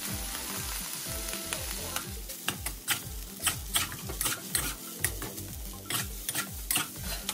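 Rice stir-fried in a wok over high heat sizzles steadily while a utensil scrapes and tosses it in quick, repeated strokes, close and moderately loud with no talking.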